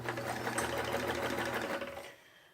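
A vintage Sears Kenmore sewing machine runs steadily with a continuous whirring, rattling hum for about two seconds before winding down and stopping, close and alone with no talk.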